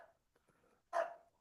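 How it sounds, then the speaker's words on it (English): An old bulldog barks once at a wall indoors, a short, fairly faint woof after some soft snuffling and movement sounds. "He's literally a senile old bulldog, and he just doesn't know what he's doing. He's face planting the wall, barking at it right now."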